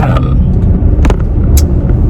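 Car interior while driving on a weekday morning commute, a steady low road rumble and engine drone filling the cabin throughout, with a few faint clicks and rustles near the mic and no talking.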